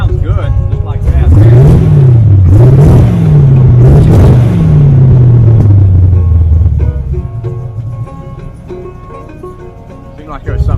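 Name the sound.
283 engine running with a lumpy cam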